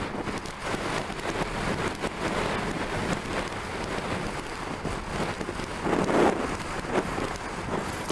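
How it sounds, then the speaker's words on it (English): Wind blows hard outdoors, a steady, loud, buffeting roar across the microphone, with gusts rising and falling throughout and no talking. "It's really windy today."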